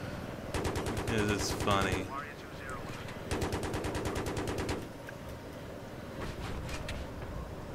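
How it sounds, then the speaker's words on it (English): Automatic gunfire bursts from the Battlefield 3 co-op mission in a Vietnam jungle, rapid rattling volleys in two loud stretches with a quieter pause between, while players talk over the shooting. "They're shooting at us."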